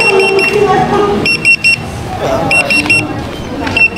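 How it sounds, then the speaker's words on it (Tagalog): An alarm beeping in repeated bursts of three rapid high tones, loud and close, sounding over busy chatter and background hubbub as people talk. "Yan guys, nag-alarm na, kukunin lang natin."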